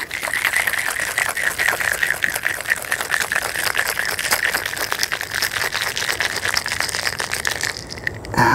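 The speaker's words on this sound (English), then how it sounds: "Let's mix this guy." Cocktail with Angostura bitters being mixed, a steady loud rattling and crunching of ice shaken in a shaker for about eight seconds, close and continuous.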